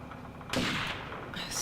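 A single loud gunshot blast in the video game Second Sight, a broad burst with a short decaying tail and a second, fainter crack right after.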